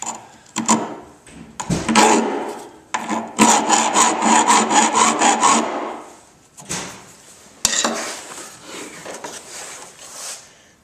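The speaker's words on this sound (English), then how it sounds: "Yeah, that cuts real easy with the file." Hand file cutting across a small piece of found steel clamped in a vise, loud rhythmic rasping strokes in bursts with brief pauses between runs, no talking.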